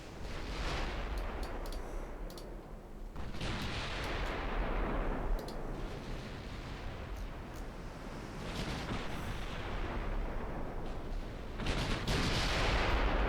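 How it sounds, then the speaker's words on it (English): Heavy 15-inch naval guns firing in a British Classic Campaign battleship video game, several deep booming blasts with long rumbling decays rolling over a continuous low roar, loud and without speech. "the 15-inch gun has been doing superb work"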